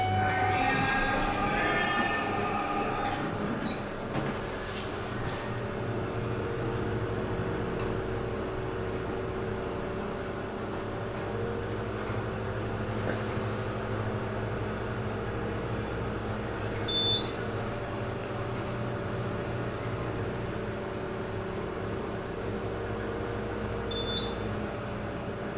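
A hydraulic elevator runs to tracks G and H at Secaucus Junction in New Jersey, making a steady low mechanical hum inside the cab with two faint high electronic beeps along the way.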